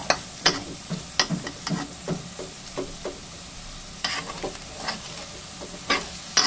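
Ground pork and mixed vegetables being stirred in a pan, with repeated scraping strokes of the spoon over a soft, steady sizzle, close and fairly loud, with no talking.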